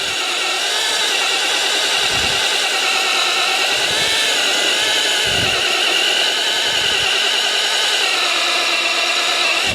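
A Masaru cordless rotary hammer drill rated at 2.4 joules runs at full trigger, giving a loud, continuous high-pitched motor whine broken by several low hammering thumps.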